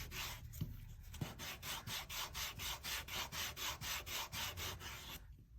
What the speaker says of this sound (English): Starting off with 240 grit, and I'm just going to sand down my edges, get them uniform